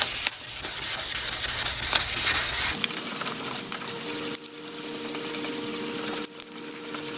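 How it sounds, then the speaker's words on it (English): Steady wet rubbing and scrubbing of sandpaper across a sun-damaged car headlight lens, continuous and close, with a brief change in texture partway through. "you're actually wet sanding it"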